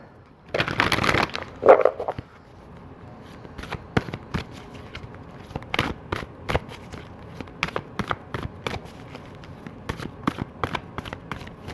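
A deck of tarot cards is shuffled: a dense riffling burst at the start, then a long run of sharp, irregular card taps and flicks at close range in an otherwise quiet room.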